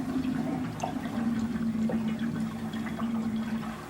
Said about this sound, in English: even the most playful water spirals down the drain in a very strict manner